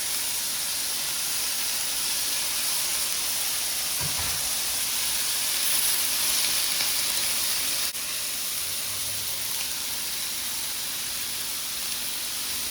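Chopped kale sizzling in a pan with shrimp and bacon fat, a steady loud frying hiss close by with a brief clatter partway through, no talk.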